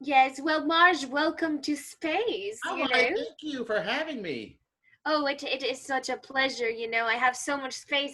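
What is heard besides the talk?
No everyday noise stands out behind the speech.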